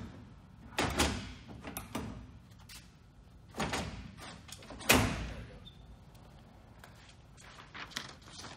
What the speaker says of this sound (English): we have to close the door manually to operate the machine